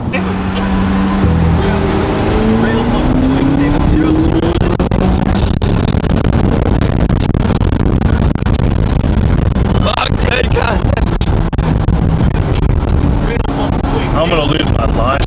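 A McLaren 570S sports car accelerates hard, its engine roaring loud and continuous from inside the cabin, pitch rising in sweeps, with voices talking over it throughout.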